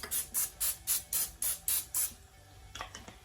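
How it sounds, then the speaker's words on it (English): Canola oil cooking spray hisses into a pot for salmon in about eight quick, evenly spaced bursts, close and fairly loud, followed by a few fainter clicks and rattles. "I'm just gonna spray some canola oil inside of the pot so that the salmon don't stick."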